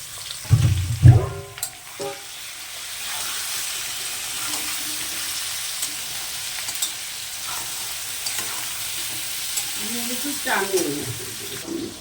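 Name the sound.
potatoes and onion frying in pan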